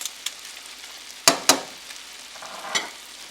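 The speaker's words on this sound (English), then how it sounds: "Add the pre-prepared snails to the pan, mix them in with the sauce, and add the garlic and most of the parsley." Pre-prepared snails stirred into a sauce in a pan, with a soft steady sizzle broken by two sharp close spoon-and-pan scrapes and a few lighter clinks, no voices.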